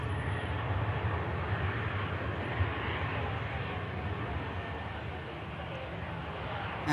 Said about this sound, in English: Qatar is on the taxi.